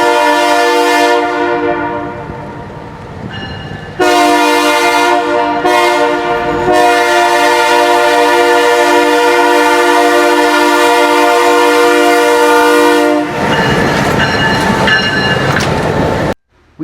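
Train locomotive reversing south near Pine Junction on Chicagoland's East Side, its multi-tone horn blaring loud and close in long sustained blasts separated by short breaks, over rumbling rail noise.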